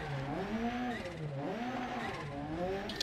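A rear-wheel-drive car engine in a driving game revs continuously, its pitch rising and falling in repeated sweeps as the throttle is worked, loud and steady throughout.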